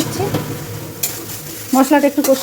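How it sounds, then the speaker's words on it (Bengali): A spice paste stirred and sautéed in a pan with cardamom, cinnamon, cloves and bay leaf for a paneer dish, heard as close sizzling and scraping strokes in bursts, with a little voice in the background. "এই যে মশলাটা এবার একটু কষিয়ে"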